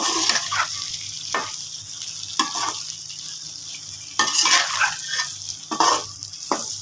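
Okra frying in hot oil in a pan with turmeric gives a steady sizzle. Bursts of spatula stirring and scraping against the pan recur every second or so, with no talking.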